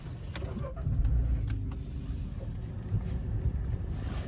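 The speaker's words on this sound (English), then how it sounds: "I'll just turn the car on for you now." Volkswagen Move Up! 1.0 60PS petrol hatchback with a 5-speed manual starting up at a dealership, a brief crank giving way to a steady, low idle rumble that carries on close by.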